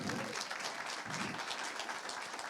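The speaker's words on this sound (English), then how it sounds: "one more round of applause for Shazan, please" An audience at a keynote talk claps for the speaker Shazan in a continuous, fairly distant patter of many hands, with a faint voice surfacing under the applause.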